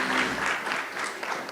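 Audience applause for conference panelists at an energy indaba, sustained clapping from a crowd that carries on evenly and fades slightly toward the end, with no talk over it.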